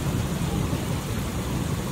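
A heavy downpour on Raksha Bandhan day gives a dense, loud wash of rain with deep rumbling underneath, suggesting thunder, throughout a brief moment with no talk.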